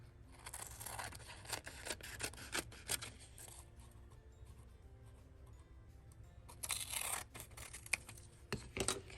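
Scissors snip through a paper craft tag decorated with stamped and collaged embellishments, close and quiet, with two bursts of rapid crisp cuts separated by soft rubbing of paper.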